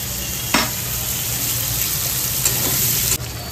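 Onions fry in hot oil, crisping toward red, with a loud, constant sizzle close up, broken by a few sharp clicks and scrapes of stirring.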